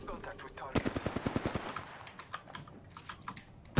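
A rapid burst of about a dozen sharp gunshots in Apex Legends, evenly spaced like automatic fire, followed by scattered softer clicks and taps.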